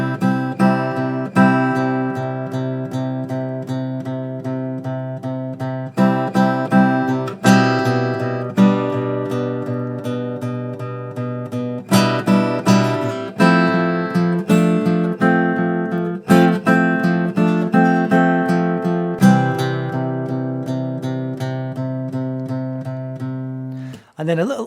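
Fingerstyle acoustic guitar playing a song with a sustained, slightly syncopated bass line under plucked melody notes, steady and close, with brief pauses between phrases.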